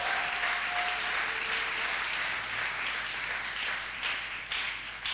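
Church congregation applauding and cheering in praise of the Lord, a steady wash of many hands clapping throughout, loud and close, with a brief voice tone near the start.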